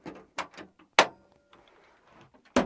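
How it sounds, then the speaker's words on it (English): Stern pinball machine coin door swung shut and locked: a few sharp metallic clunks and latch clicks, the loudest near the middle and a final firm thud at the end, with quiet rattling in between. "Lock that coin door"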